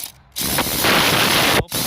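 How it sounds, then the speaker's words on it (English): A ratchet with an E10 socket removes bolts on a Mercedes E-Class 2.1 near the differential pressure sensor, giving one loud, close, continuous burst of fast buzzing clicks that stops abruptly. "So I'm just removing these bolts."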